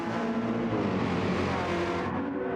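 Porsche and AMG race cars lapping Interlagos in a racing video game, a dense, steady roar of several engines droning together without a break.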